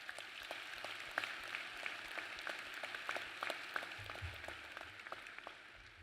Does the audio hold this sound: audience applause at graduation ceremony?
yes